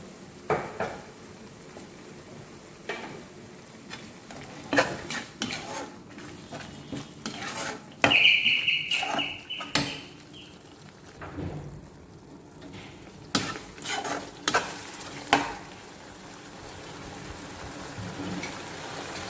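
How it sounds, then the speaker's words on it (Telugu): A spoon stirs and scrapes ingredients frying in ghee in a pan for mint rice, with scattered clinks and scraping strokes at moderate loudness, and a brief brighter metallic scrape midway. "ఇప్పుడు నెయ్యిలో చక్కగా వేగినాయి అన్నీ"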